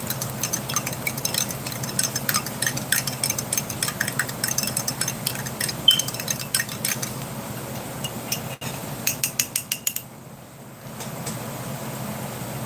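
A spoon stirs a ration drink mix in a container so it dissolves, making rapid, close clicking and scraping taps in a steady rhythm over a low background hum. The stirring slows and stops near the end, and nobody speaks.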